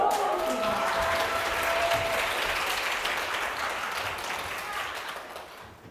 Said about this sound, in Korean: 큰 박수로 맞이해 보도록 하겠습니다